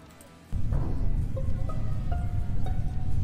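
A short series of electronic Among Us report blips and tones rises over a loud, dense low rumble.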